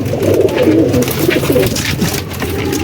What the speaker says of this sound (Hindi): ये सारे कबूतर जो कसूरी कबूतर आपको दिखा रहे हैं